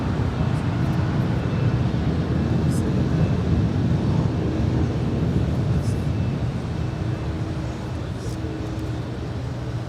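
An American Airlines Airbus A321 departs LAX with a broad, continuous jet roar. The noise stays loud and steady throughout, then eases slightly near the end.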